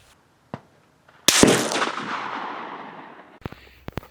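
A Remington 700 rifle firing at a shooting range, one loud sharp crack with a long rolling echo that fades out, framed by a few small clicks and knocks.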